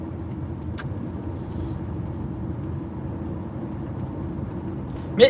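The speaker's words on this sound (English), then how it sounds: "We're just trying to get the VTEC to kick in because I want this car to do 5 miles to the gallon on average." A Honda car with a VTEC engine gives a steady, low droning rumble that holds at a constant level throughout, with a brief louder knock right at the end.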